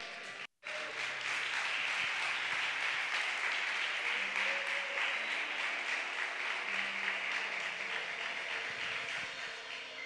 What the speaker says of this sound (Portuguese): Diga amém e dê um aplauso ao Senhor.